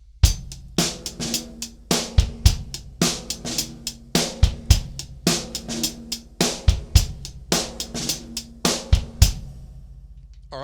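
A drum groove on a full kit repeats with kick, hi-hat and snare, its buzz strokes on the snare left to ring out, several bars played close and loud before stopping, with no talking.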